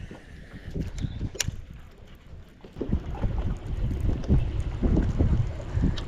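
Gusty wind buffeting the microphone on a boat out fishing on a lake, with uneven low rumbling bursts and faint clunks, fairly quiet overall.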